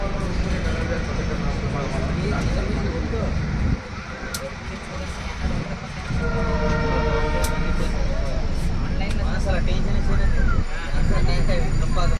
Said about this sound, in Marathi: सो फायनली आपली ट्रेन कुर्डुवाडी जंक्शनवरून निघाली